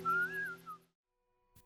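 Ellie from the video game The Last of Us whistles a short, clear, wavering tune up close and alone. It breaks off into silence, followed by a faint soft knock at the end.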